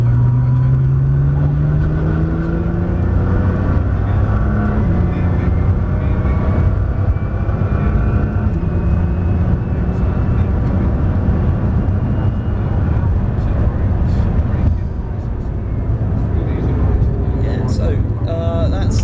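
A supercar runs at full throttle down the straight of the Top Gear test track, its engine note climbing loud and continuous through repeated rising sweeps, heard close from inside the car.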